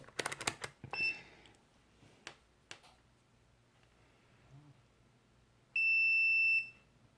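A multimeter on continuity mode during repair of a SNES controller gives one loud steady electronic beep lasting under a second, after a few sharp clicks and taps.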